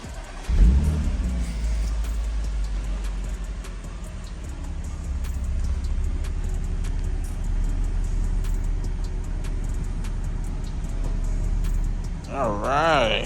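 An Audi S4 B8.5 fitted with test pipes rumbles with a deep, steady exhaust drone as the car moves, heard up close for several seconds, with a brief louder burst near the end.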